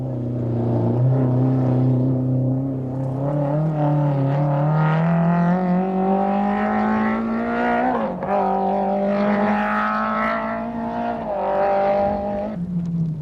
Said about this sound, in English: The BMW is really struggling without a clutch.